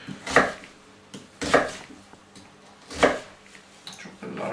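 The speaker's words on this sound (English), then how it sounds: "chop it large like that" A knife chopping vegetables on a cutting board, four distinct, evenly spaced chops, close and fairly loud with nothing else in the background.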